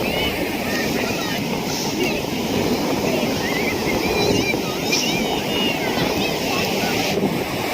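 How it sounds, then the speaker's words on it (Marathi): Sea waves surge at high tide on Guhagar beach under hot midday sun, a constant loud wash of surf blended with wind buffeting the microphone, and people talking through it. "काही वेळेला एवढी मोठी लाट येते की पाणी ह्या बाजूला जातं पूर्ण"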